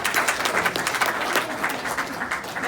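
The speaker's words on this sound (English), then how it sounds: "Applaud Chet for his service." Audience at a Rotary charter night dinner applauding a departing board member, a steady, dense round of clapping lasting throughout with faint talk underneath.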